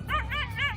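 Dogs chasing on a hunt in Sumatra give three short, close, high yipping barks in quick succession, each rising and falling in pitch, with no one speaking over them.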